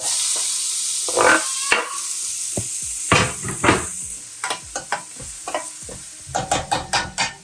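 Chopped onion with cumin, curry leaves and turmeric sizzles in hot oil as a spoon stirs and taps the pan in uneven bursts, a steady frying hiss underneath, close and with no talking.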